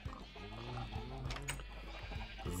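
Sheep bleating in Minecraft, a few short wavering calls close by over a steady background hum, with no talking.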